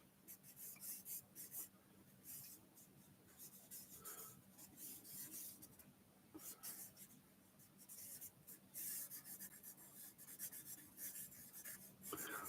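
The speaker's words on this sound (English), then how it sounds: "dragging the charcoal in the same way I normally drag the stuff that I make around" Charcoal dragged across paper while drawing, a soft continuous scratchy rasp with repeated strokes, close and quiet, with no talking.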